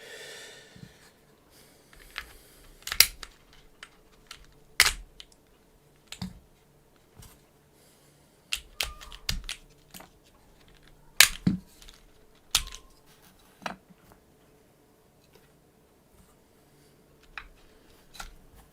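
Keycaps and parts are pried off a Neo65 mechanical keyboard with a puller, giving scattered sharp plastic clicks and snaps at an irregular pace, close and fairly quiet, with no talking.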